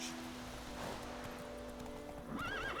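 Geralt's horse Roach trotting in The Witcher 3 on Nintendo Switch, with steady clip-clopping hooves and rustling, then a neigh near the end, at moderate volume.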